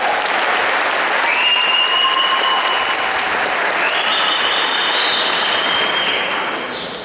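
A crowd applauding at a religious retreat: dense, steady clapping that fills the space loudly and continuously, with faint whistles rising through it and fading slightly at the end.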